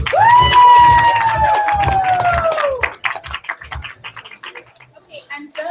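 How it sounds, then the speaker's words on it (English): Crowd at a motivational evening event letting out a loud whoop followed by scattered clapping and shouts that taper off over a few seconds. "Give them a big round of applause."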